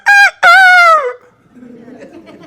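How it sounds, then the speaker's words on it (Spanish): A rooster crows once in a loud, harmonic, rising-then-falling call lasting about a second, after a short opening note, followed by faint low rustling and murmur. "cantó el gallo."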